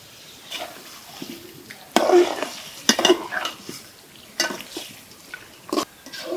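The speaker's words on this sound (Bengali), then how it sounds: "এখন আমি গোস্তগুলো দিয়ে দেব মুরগির গোস্তগুলো দিয়ে দেবো" Pieces of country chicken go into a pan of cooked-down spices and get stirred; a spoon clanks and scrapes against the pan in uneven bursts, with a faint sizzle between the louder knocks.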